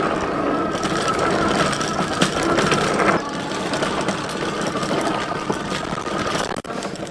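Electric bike riding off-road through thick grass, a steady whirring motor mixed with brushing, crunching rustle from the grass, close and continuous with no talking.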